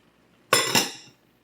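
Shrimp fried rice made with riced cauliflower is stirred in a pan, giving a short scrape and clink of utensil on metal: two quick strikes close together that ring out and fade within about half a second.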